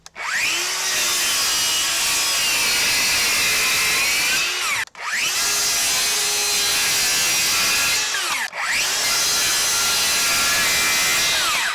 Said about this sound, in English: Let me show you the difference between cutting through the MDF with the 20 volt compared to the 60 volt battery